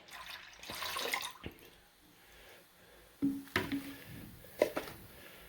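Liquid pours from a sanitized graduated cylinder while making meadowfoam sack mead, a soft splashing trickle up close, followed by a few sharp knocks and clinks of glassware.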